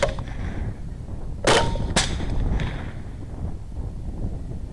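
Two sharp rifle gunshots about half a second apart during a hog hunt in Bosque County, Texas, loud and close against steady outdoor wind noise, followed by a fainter third crack.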